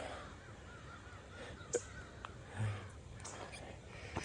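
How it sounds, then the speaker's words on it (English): A few distant crows caw sporadically over a quiet outdoor background on the Appalachian Trail. "Look at all those crows."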